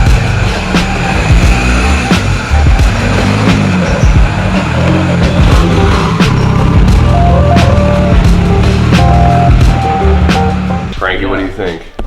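K-swapped Toyota FRS drift car engine running loud and close, a steady low rumble with shifting revs throughout, people talking over it.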